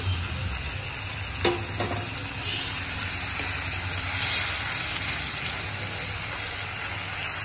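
A pan of mustard-sauce pabda fish sizzles steadily with a soft hiss once a little water goes in, with a sharp clink near the start and light stirring sounds through the rest, and no voices.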